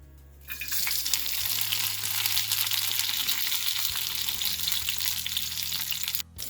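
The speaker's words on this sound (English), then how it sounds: "In this pan, I have a spoonful of oil, and I'm going to add a couple cloves of chopped up garlic and some curry leaves" Chopped garlic cloves and curry leaves hit a spoonful of hot oil in a pan and sizzle loudly and steadily, a brief quiet moment before the crackle starts and a short dip near the end.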